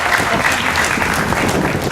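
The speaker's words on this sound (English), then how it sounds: "Clap, clap, clap." An audience at a street performance at Circular Quay applauds steadily throughout, a dense and fairly loud wash of clapping with a faint crowd murmur underneath.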